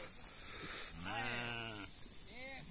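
Sheep bleating in a flock that includes lambs, offered for sale as livestock; one long clear bleat sounds close by midway, followed by a shorter bleat, over steady farmyard background noise.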